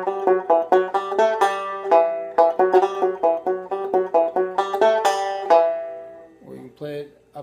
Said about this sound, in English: Dancing Bear, you could play it with single strings and it would be a little boring